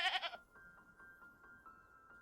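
A goat in the farming game Preserve bleats once, short and clear, then a faint steady electronic tone with soft ticks continues.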